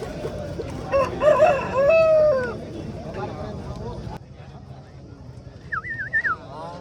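A double-bodied rooster crows loudly at a busy chicken market, its call rising over steady crowd chatter and nearby voices, with another crow sounding later in the clip.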